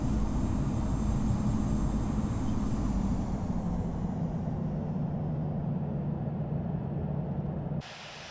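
A Boeing 787 airliner taxis in the Infinite Flight simulator, giving a steady, loud, continuous engine roar and hiss that holds nearly throughout, then drops abruptly to a quieter hum at the end.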